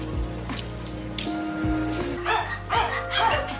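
A dog barks and yips several times close by, with short sharp bursts separated by brief pauses and some whimpering, against an outdoor background.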